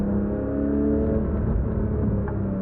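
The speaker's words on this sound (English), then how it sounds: "listening for the sound of their downshifts" Car engines drone steadily on a back road with a low rumble and faint revving from downshifts, sustained and fairly loud throughout.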